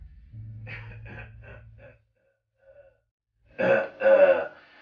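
A few short throat-clearing bursts at moderate level, a brief pause, then two louder, rougher coughs close to the mic.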